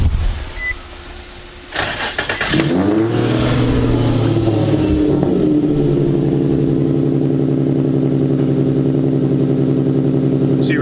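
An Infiniti G35 coupe with automatic transmission cranks briefly and starts, its engine catching with a rev and then settling into a steady, close idle.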